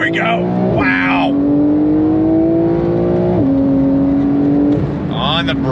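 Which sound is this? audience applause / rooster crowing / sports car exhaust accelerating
sports car exhaust accelerating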